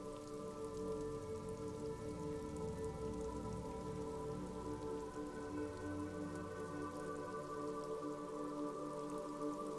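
Steady rain falls on surfaces in the Disco Elysium video game, a dense continuous patter with droplet detail and a low ambient hum, constant and alone without voices.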